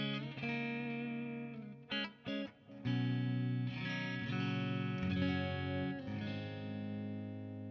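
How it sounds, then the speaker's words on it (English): A clean electric guitar through the clean channel of an AMP1 Iridium amp with reverb engaged plays chords and single notes with a lush reverb tail, a few brief pauses breaking the ringing phrases. "the clean channel of the AMP1 with the reverb engaged"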